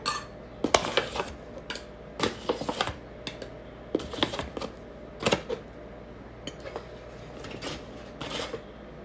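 Flour scooped with a measuring cup for no-knead bread, clattering metal-and-bowl knocks and scrapes in irregular bursts, fairly quiet and close, no talking.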